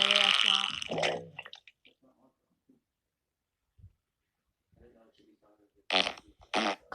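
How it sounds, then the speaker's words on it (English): A diarrhea-style fart, a short wet sputtering burst after a quiet stretch, followed by a second loud spluttering blast near the end. "Another diarrhea fart."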